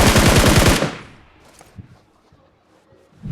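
A shooting video game lets off a loud, close burst of rapid automatic gunfire that cuts off abruptly, leaving faint scattered game sounds afterward.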